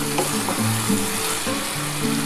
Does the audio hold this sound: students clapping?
no